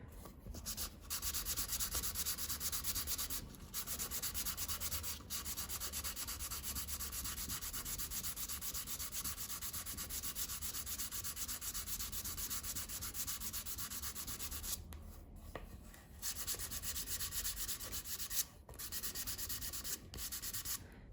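Steady hand sanding with 220-grit paper on a fret plate for an electric baglama, a continuous soft scratchy rubbing with brief pauses between passes, close and fairly quiet.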